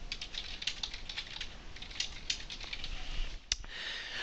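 Fast, steady clatter of typing on a computer keyboard as a comment is entered in print-management software, close and moderately quiet, with a brief pause near the end and no talk.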